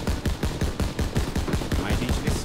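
Rapid bursts of gunfire in the World War II shooter Call of Duty: WWII, loud and continuous with a steady rhythm of automatic fire throughout, a voice faintly underneath.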